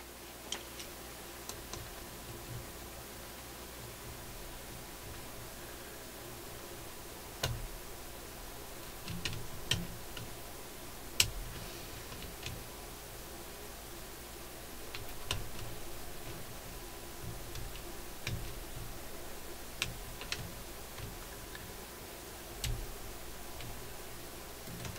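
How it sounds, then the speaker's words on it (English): A socket wrench ratchets a nut tight on a Hoffman A300 vacuum tube radio, giving scattered, faint ticking clicks spread over a steady low hum with no talk. "gotta find the right socket here to really get this down nice and tight"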